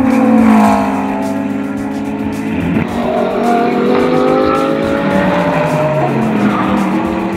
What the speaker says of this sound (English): this is a GT3 car which is converted from the MP4-12C road car